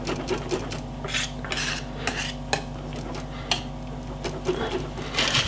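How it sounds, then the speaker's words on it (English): Jamaican peanut, oats and cornmeal porridge stirred in a pot, rhythmic scraping and clinking of the spoon against the pot over a low steady hum, close and moderately loud. "Then we're going to give it a lovely stir like this. Don't shy, mix him up, getting everything inside of it."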